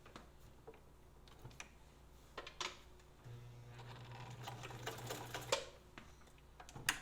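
A restored Husqvarna Viking sewing machine runs in a steady stitching burst, preceded by a few faint clicks and handling taps, with a louder mechanical knock near the end.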